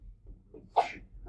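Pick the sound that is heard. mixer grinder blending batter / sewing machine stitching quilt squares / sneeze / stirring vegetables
sneeze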